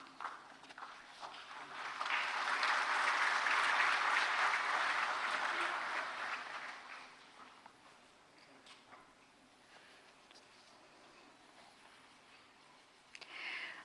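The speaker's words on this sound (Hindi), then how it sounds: "आप सभी की तालियों के बीच मंच पर स्वागत करते हैं अक्षत पांडे का।" Audience applause at an award ceremony, clapping that swells to a dense peak, holds for several seconds, then fades to scattered claps.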